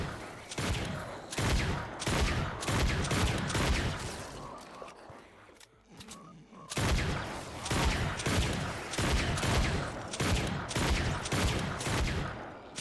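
Weapon fire in Fortnite Save the World rattles out as loud, rapid bursts of shots in quick succession, with a short lull partway through before the volleys continue.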